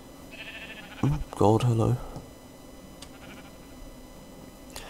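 Sheep bleating in Minecraft, the Feed The Beast modpack: one short clear bleat near the start, then a longer wavering bleat, heard close over a faint background hum with a brief spoken word.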